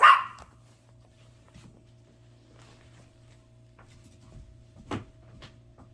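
A dog barks indoors, one sharp loud bark at the start followed by a quieter, shorter bark later, with near silence and faint room hum between.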